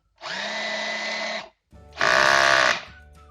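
A cordless screwdriver converted to lithium batteries whirs in two loud, steady bursts, the second at a higher speed and louder, each with a clean start and stop, close by with no speech.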